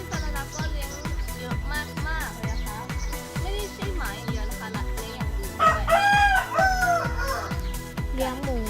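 A rooster crows loudly midway through, ringing over a steady rhythmic music beat, with a voice speaking at times.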